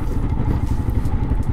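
Royal Enfield Himalayan motorcycle riding through hilly country, a steady low thumping single-cylinder engine note with some mechanical clatter, loud and close, holding an even rhythm throughout.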